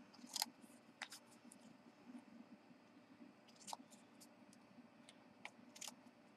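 Scissors snip through paper in a quiet craft setting, giving sparse, sharp, close clicks spaced a second or so apart over a faint background hiss.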